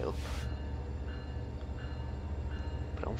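A heavy train on the Antelope Valley Line in Train Sim World 4 gives a steady low rumble with faint clanks and rail noise, briefly topped by a burst of hiss at the start.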